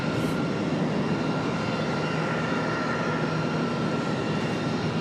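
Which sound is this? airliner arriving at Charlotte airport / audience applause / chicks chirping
airliner arriving at Charlotte airport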